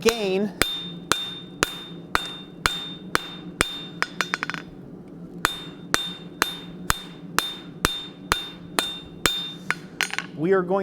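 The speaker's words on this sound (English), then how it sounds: "as we hammer and strike down in this direction" A hammer strikes hot steel on an anvil while forging a hot cut hardy, delivering about twenty sharp ringing blows in a steady even rhythm with a short pause midway, loud and close.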